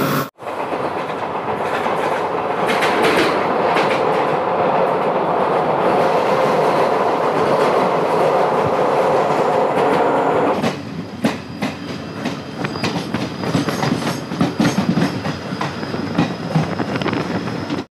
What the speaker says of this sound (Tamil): அப்படியே ஜாலியாக இங்கே ஒரு ட்ரெயின் ரைடுங்க.